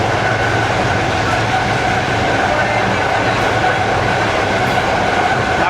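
Onboard the Pak Business Express passenger train, a steady loud rumble of wheels and carriage rolls on without pause, with a faint clatter and hum running throughout.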